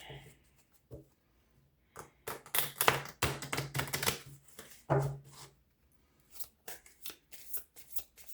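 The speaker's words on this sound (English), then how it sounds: "let me shuffle them first" Rapid riffling bursts of a deck of cards being shuffled several times, close by, with a person speaking briefly between shuffles.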